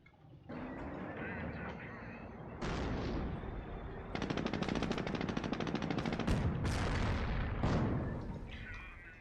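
Tank cannon fire and machine-gun bursts from a WWII strategy video game battle between a Sherman Firefly and a Panther, loud and dense with repeated sharp shots, rapid rattling volleys and booming blasts throughout.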